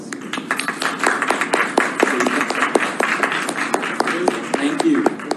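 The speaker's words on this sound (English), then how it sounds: "it's time to actually offer our thanks to the speakers with a round of applause" An audience claps for panel speakers, a modest round of scattered, sharp individual claps with voices murmuring underneath.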